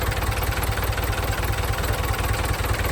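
A 6640 tractor engine runs at a steady idle, loud and close, with an even mechanical chug and no voices over it.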